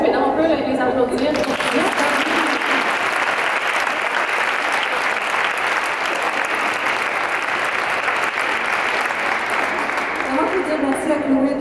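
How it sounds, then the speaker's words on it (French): A crowd at a book launch applauds steadily and loudly for about eleven seconds, a dense wash of clapping with a few voices speaking at the start and end. "On peut les applaudir."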